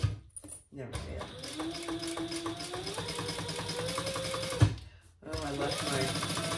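Sewing machine backstitching pink thread on pink fabric for a tote bag pocket, a steady fast running drone that pauses twice briefly, with a person talking over it.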